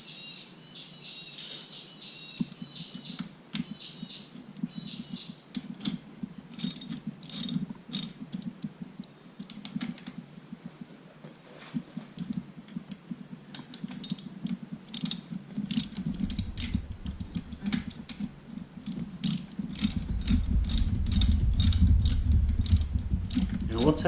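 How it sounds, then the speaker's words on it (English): Socket ratchet tightening a camshaft cap on a Honda CBR250R MC19 engine, with bursts of rapid close clicking repeated through the work, quiet gaps between strokes and a deeper mechanical rumble near the end. "So we're just tightening one cap, and that's going to draw the camshaft down onto"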